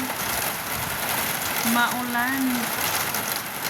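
Steady rain falling on a rainy afternoon, a constant even hiss throughout with a brief whistle-like tone rising over it.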